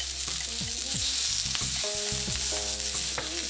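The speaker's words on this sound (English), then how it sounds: "Make sure you saute the vegetables in really high heat, really quickly, starting with the onions." Onions sauté over very high heat in a hot pan, sizzling steadily and loudly, with scraping and clinks from stirring. A faint tonal hum runs underneath.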